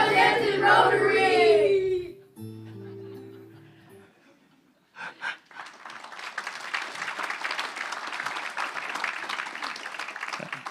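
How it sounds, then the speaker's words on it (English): A Rotary district conference audience breaks into applause with some cheering, starting after a cheering shout and tonal music, swelling from a single burst into steady, moderately loud clapping. "Thank you for those kind applause."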